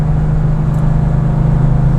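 A Porsche 911 RS engine gives a loud, close, steady droning hum with a strong low tone that holds at a constant pitch, with no talking.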